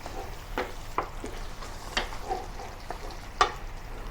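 Boneless chicken handi cooks in a pan with a soft, low sizzle, punctuated by a few sharp utensil taps and clinks, with no one speaking.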